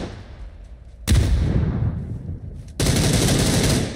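Sustained automatic gunfire in PUBG bursts in loudly after a quiet moment, eases slightly, then a second, brighter volley of rapid shots kicks in and continues to the end.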